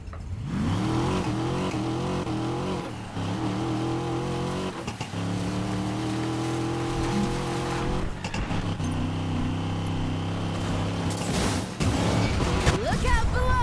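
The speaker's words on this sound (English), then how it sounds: "You play it for fast cars, great sounding cars, and cops. I mean, listen to the V8." V8 car engine in the racing video game Need for Speed Payback, revving and accelerating loudly through gear changes in a continuous roar, with someone talking over it and music underneath.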